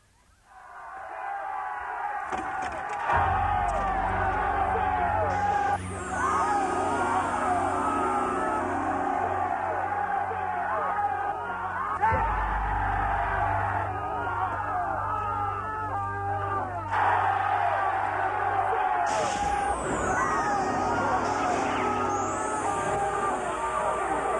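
A demanding crowd shouts and clamours outside Lot's house in a staged Sodom and Gomorrah Bible demonstration: a dense, loud, continuous tangle of voices swelling and surging for the whole stretch.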